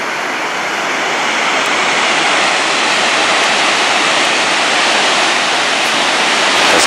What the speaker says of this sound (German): Und hier der Wasserfall ist auch als Trinkwasserquelle ausgewiesen.